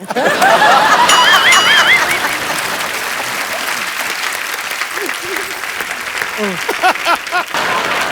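Studio audience of The Kapil Sharma Show breaking into loud, sustained applause with scattered laughter and cheering, strongest at the start and thinning into lighter clapping and crowd noise over several seconds.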